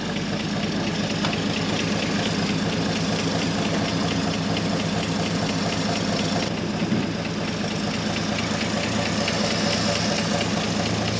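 A 1953 Chevrolet engine runs steadily close by, a loud, continuous mechanical drone with an even idle rhythm and only a slight shift in pitch partway through, with no voices.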